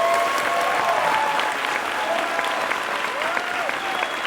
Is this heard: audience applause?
yes